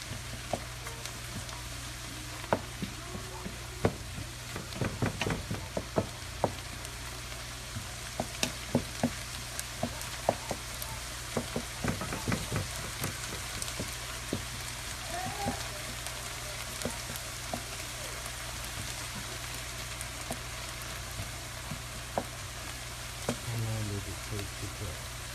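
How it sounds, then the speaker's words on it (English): Chopped vegetables fry and sear in a hot pan on high heat, a steady close hiss and crackle running throughout with scattered sharp pops and clicks, and brief faint talk near the end. "So you don't want it to start to like steam. You want it to fry"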